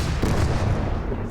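Anti-infantry gun in the Gates of Hell war game, a single heavy boom with a rumbling low tail, loud and close, with no talk over it.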